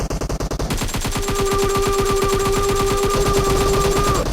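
Rapid automatic gunfire from the battle royale game Free Fire, dense sustained bursts of repeated shots fired loud and close, running almost continuously with a steady rhythm.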